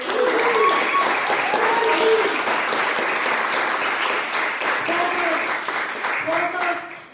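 An audience at a project launch event claps steadily for about seven seconds, the applause dense and even before tapering at the end, with a few voices audible through it.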